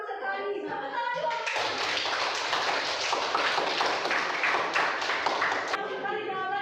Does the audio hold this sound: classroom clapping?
yes